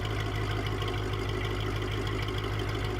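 A Mercedes E55 AMG with the supercharged M113K V8 idles in a steady, loud, close drone. The low rumble runs continuously, with no talking over it.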